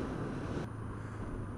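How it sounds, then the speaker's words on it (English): Strong wind buffets the microphone outdoors during a barbecue in windy weather, a continuous low roar, loud and unbroken, with one brief dip in intensity midway and no voices. "It's far too windy."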